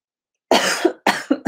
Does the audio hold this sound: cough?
yes